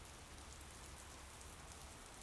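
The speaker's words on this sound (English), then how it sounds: "Rain gets in your hair," Steady rain falls without pause, a soft, even hiss of drops on surfaces that stays faint and constant throughout, with no voices.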